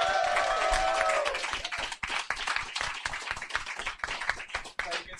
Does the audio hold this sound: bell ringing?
no